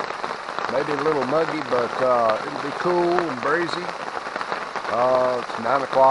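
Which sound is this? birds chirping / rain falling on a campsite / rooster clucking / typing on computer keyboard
rain falling on a campsite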